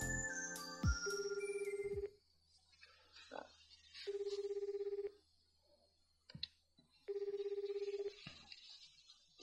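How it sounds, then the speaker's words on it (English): A telephone in a video game rings in three electronic bursts separated by pauses, preceded by clicks and short tones, fairly quiet with faint background hum between rings. "So immediately after that, the phone starts to ring."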